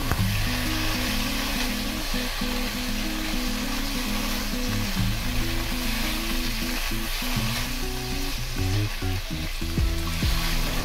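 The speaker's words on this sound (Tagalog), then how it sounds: "igisa na natin yung chicken liver" Chicken liver sautéing in a hot pan for homemade pancit canton, a steady close sizzle and crackle of frying with occasional stirring scrapes, continuous and loud throughout with no talking.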